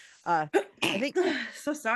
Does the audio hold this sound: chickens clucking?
no